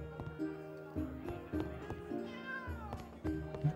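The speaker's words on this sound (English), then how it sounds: "Our cat kind of loves us." A cat in the video game Traveller's Rest meows repeatedly in short, rising calls about every half second over soft game music, fairly quiet and close.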